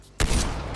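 A single loud, close shot from the LW3 Tundra sniper rifle in Call of Duty Cold War, a sudden blast that rings on with a long, full rumbling tail.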